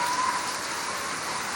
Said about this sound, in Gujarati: અને વરસાદ તો જો ફૂલ ચાલુ થઈ ગયો ગાઈસ વડનગરમાં